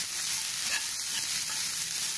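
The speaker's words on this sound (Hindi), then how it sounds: "इसको थोड़ी देर हम भूनेंगे" Chopped vegetables such as carrot and cabbage sizzle steadily in a hot pan for veg manchow soup, a soft continuous frying hiss with faint stirring scrapes and no talking.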